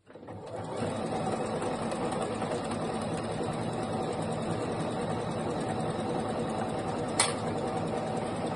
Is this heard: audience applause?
no